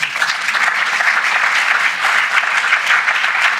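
Audience at a literature festival event in London breaks into a round of applause: loud, close, dense clapping from many hands, sustained evenly throughout without voices.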